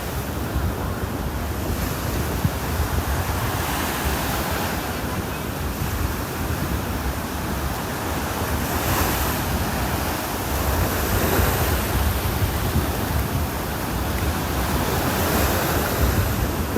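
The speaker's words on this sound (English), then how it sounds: "Feels like I'm walking right into the wind now." Strong wind roars steadily across a microphone on a beach in North Naples, Florida, with surf washing underneath in a constant broadband rush that swells and eases slightly without pause.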